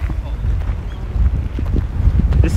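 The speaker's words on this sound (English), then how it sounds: "it's very windy." Strong wind buffets the microphone outdoors in Hirosaki, Japan, with a constant low rumble and gusty roar, no other clear sounds.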